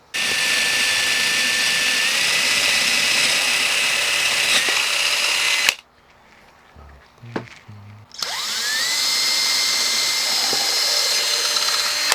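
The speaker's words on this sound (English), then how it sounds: "I'm going to use this to make myself a pilot hole for where our 10 millimeter holes are going to go." A power drill bores a pilot hole into a figure-8 electric guitar body, a loud, high, steady whine that cuts out briefly midway with a few soft knocks, then spins back up and runs on.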